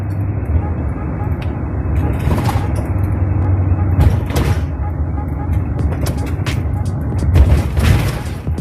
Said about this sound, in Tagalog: Pakinggan natin yung ingay ng preno pag may problema.